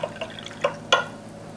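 Water trickling and dripping into a baking pan to make a water bath around creme brulee ramekins, a few soft splashy drips spread over the moment, close and fairly quiet.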